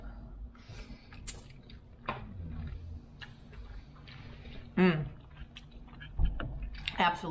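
Someone close by chews long noodles with soft, wet mouth sounds and a brief slurp partway through, and some faint voices and light clinks sit in the background.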